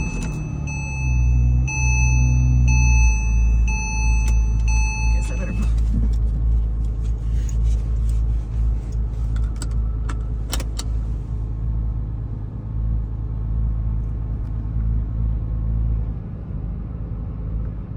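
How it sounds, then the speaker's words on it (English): A 2008 Porsche Cayman S starting cold after sitting several days in a garage in San Diego, California: a loud, steady close-up engine rumble with brief rattling and a high whine at the start, then settling into an even idle. "here to do a cold start of the 2008 Cayman S"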